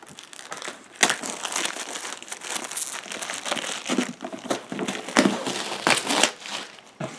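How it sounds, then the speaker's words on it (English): Plastic shrink wrap crinkles and crackles continuously as it is cut and peeled off a board game expansion box, with a few sharp louder tears and no talking. "I got my scissors here, so I'll take off this plastic."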